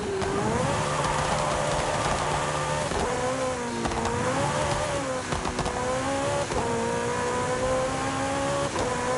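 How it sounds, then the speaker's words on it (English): A Ferrari F40 engine in Forza Horizon 5 revs hard and steadily, its pitch climbing through repeated gear changes with brief dips between pulls, loud and close throughout, with faint tire noise. "That does sound pretty close to a Ferrari motor."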